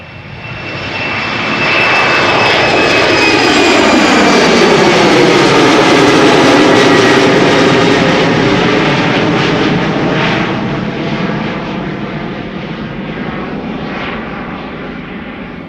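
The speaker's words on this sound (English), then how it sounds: "Time for another Embraer 190 going to Gdansk," A KLM Embraer 190 jet takes off at Amsterdam Schiphol Airport, its engine roar building loud and close, then sustained as the aircraft passes and slowly fading as it climbs away.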